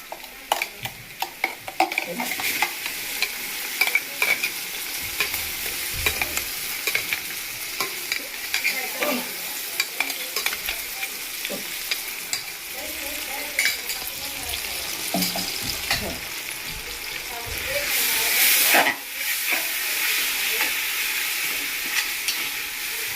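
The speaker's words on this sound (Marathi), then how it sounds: "ते चांगलं परतून झालं ना, अद्रक, लसूण, मिरची पेस्ट" Ginger, garlic and green chili paste sautéing in a pan for chicken pulav, a continuous frying sizzle with frequent spoon scrapes and clicks, briefly swelling louder near the end.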